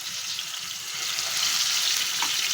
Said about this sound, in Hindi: फिर हम अपने चिकन को जो हमने मैरिनेट कर लिया है उसको फ्राई कर लेंगे